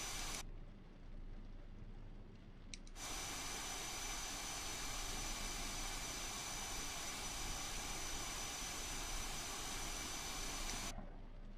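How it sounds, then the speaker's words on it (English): Simulated F-22 Raptor jet engines spooling up in Microsoft Flight Simulator, a steady broadband roar with a high whine that cuts in abruptly, briefly drops, then holds loud and even before switching off near the end. "Now the engines are coming up here."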